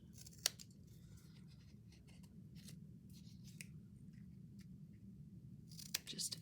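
Scissors snip through paper while making stacked pockets, faint close snips with a sharp cut near the start and another near the end over a low background hum.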